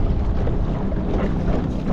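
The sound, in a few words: wind while kayaking against the wind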